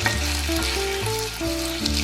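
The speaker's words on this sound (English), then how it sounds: "Stir fry again to mix well." Sweet potato vermicelli is stir-fried with soy sauce in a hot pan, a loud, close sizzle with quick tossing and scraping strokes running nonstop.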